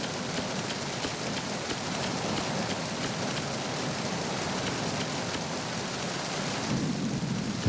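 Rain in Metal Gear Solid 2 on the PS2 tanker level falls as a dense, continuous downpour hiss with a low rumbling undertone, holding steady throughout with no voices.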